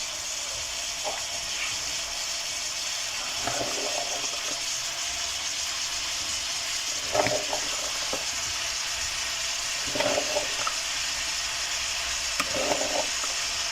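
Mixed vegetables with French beans and boiled peas stir-frying in a pan: a steady sizzle runs throughout, broken by a few short scraping stirs of a spoon, close and alone.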